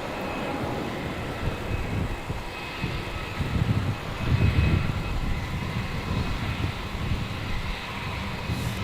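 An airliner accelerates down a runway on its takeoff roll at Melbourne Airport at night, a loud, continuous broadband engine roar that swells toward the middle and holds steady, with no voices.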